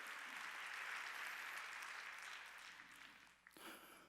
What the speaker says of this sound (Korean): 박수로 하나님께 영광을 돌려야 될 거 아니야.